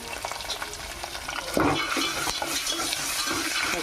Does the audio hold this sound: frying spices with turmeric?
yes